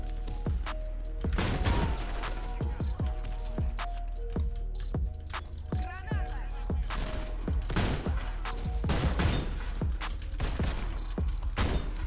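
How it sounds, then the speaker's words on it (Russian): Shotgun blasts in Warface ring out in a rapid, repeated series of loud, sharp reports with brief pauses, over constant in-game action noise. "Найс, дробовик."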